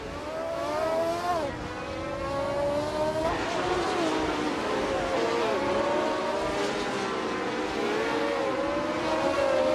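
A 1971 March 711 Alfa Romeo race car screams along in a motor race, its engine revving high with rising and falling pitch sweeps through gear changes, loud and continuous throughout.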